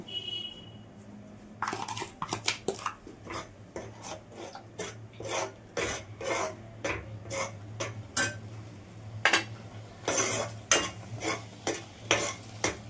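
A utensil scraping and stirring semolina in warm water in a pan, repeated rasping strokes in a steady, uneven rhythm, close and fairly quiet over a low background hum.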